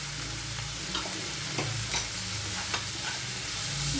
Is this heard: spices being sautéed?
yes